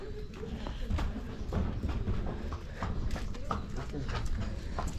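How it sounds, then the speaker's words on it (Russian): Horses being led back from a ride in Kemer, Turkey, hooves clip-clopping steadily on a hard surface nearby, with people talking over the steps. "А вот как раз те лошади, которых мы видели на дороге, когда ехали."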